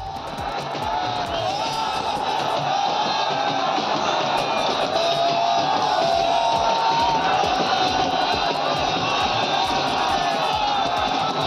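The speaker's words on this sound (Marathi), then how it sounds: "देवीच्या यात्रेनिमित्त भाविकांची गर्दी, देवीची मिरवणूक पाहण्यासाठी भाविक मोठ्या संख्येने उपस्थित" A dense crowd of devotees gathered for the Ambika goddess yatra procession in Tangda village, a constant loud roar of many voices with shouts and cheers rising throughout, close and enveloping from start to finish.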